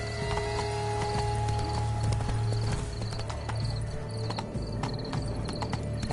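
A horse gallops in The Witcher video game, its hooves making a steady, rhythmic clip-clop over a low ambient hum with faint musical tones.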